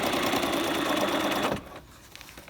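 A sewing machine runs steadily, stitching along the cut edge of a welt pocket seam allowance, then stops abruptly about halfway through, leaving quiet with a few faint clicks.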